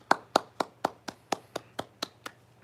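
Nine or ten crisp hand claps from a few people, evenly spaced at a brisk pace, close and distinct with short gaps of quiet between them, honoring Intel staff.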